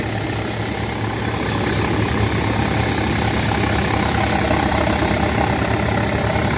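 A Sonalika 750 55 hp tractor idles nearby with a steady, loud, low diesel chug and rattling vibration that stays even throughout, no talk.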